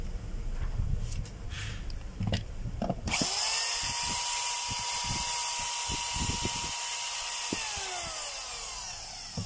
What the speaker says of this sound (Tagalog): Check natin yung drill.